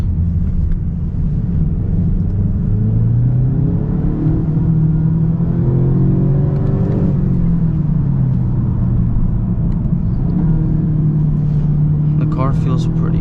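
A 2023 Genesis G70 2.0t drives along, its turbocharged four-cylinder giving a steady low drone with engine tones that rise and fall as it accelerates, heard continuously from inside the cabin.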